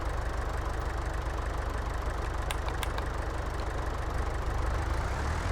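A steady, droning tractor engine idles and hums at an even, unchanging level in Farming Simulator 22, with a couple of faint clicks partway through.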